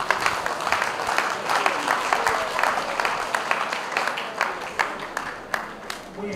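Applause for a guest at a school reunion of former grammar school classmates, a steady wash of clapping from the gathered crowd with some voices mixed in throughout.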